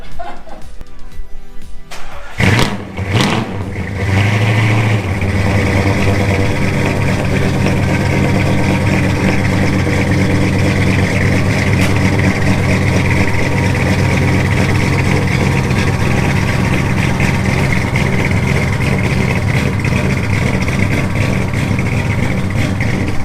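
A 1967 Dodge Charger V8 with an aggressive cam rumbles loud and close at a steady, lopey idle after a couple of sharp revs at startup, running continuously with no talk over it.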